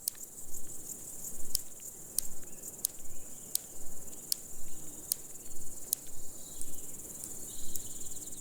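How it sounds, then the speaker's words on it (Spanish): A large European grasshopper in a peat bog sings with rhythmic, sharp clicks made by its hind legs, evenly spaced bursts repeating over a soft, continuous insect buzz, fairly close and with no voices. "Estos saltamontes son fácilmente reconocibles por su canto, que producen mediante un chasqueo rítmico de sus patas traseras."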